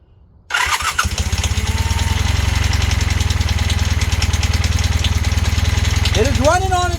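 A Honda Hondamatic 400 motorcycle that has sat for over 20 years cranks and catches, then runs on its own with a loud, rough, rapid idle that stays close and steady, while a voice speaks briefly near the end.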